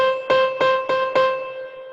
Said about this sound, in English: So now I like to start out with the society piano.